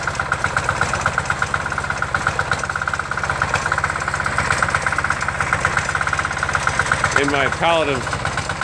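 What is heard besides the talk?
diesel David Bradley snow thrower engine idling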